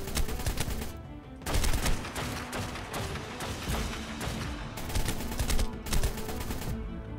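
Sustained automatic gunfire in the survival game ARK: Scorched Earth, dense rapid shots in long loud bursts broken by a few short pauses, with no talking.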